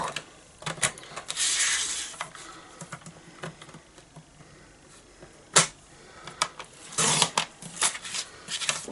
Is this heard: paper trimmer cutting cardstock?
yes